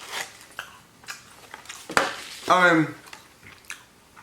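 Someone chewing a powdered sugar dessert close to the mic, soft repeated mouth sounds and crunches with a brief higher squeaky burst midway.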